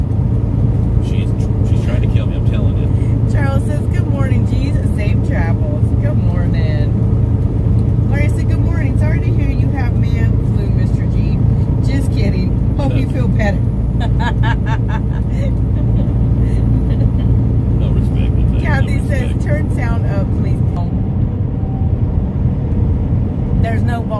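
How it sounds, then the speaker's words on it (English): Steady, loud road rumble and engine drone fill the cab of a moving truck, a constant low roar throughout, with people talking over it. "You're hearing a lot of the background noise from the truck."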